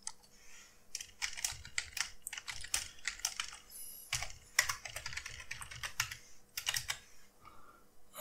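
Keys clatter on a Mac keyboard as a password is typed in, a close, fairly quiet run of quick clicks in short bursts with brief pauses between them.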